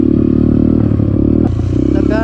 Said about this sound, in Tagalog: Gamit ko to yung motor ni Matinik.